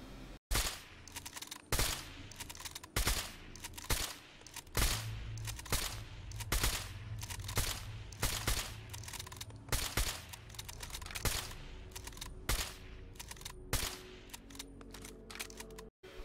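A modded rapid-fire hunting rifle in Fallout 4 fires shot after shot in a quick, steady cadence. Each crack is sharp and loud, with brief pauses between short runs of fire.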